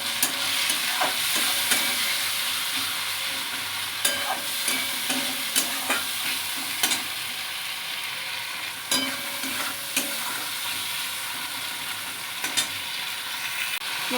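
Spicy paste of chili, salt and turmeric sizzling in hot oil with fried onions, with repeated scrapes and clinks of a stirring spoon against the pan, close and steady, no talking.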